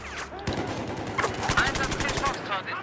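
Rapid automatic gunfire in the video game Battlefield 4 crackles in dense bursts of sharp shots, loud and close, with game voices faintly mixed underneath.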